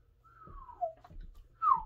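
A person attempts to whistle: a thin, wavering tone slides downward, breaks off into breathy air, then returns as a brief, stronger whistle near the end, close and fairly quiet, with no talking.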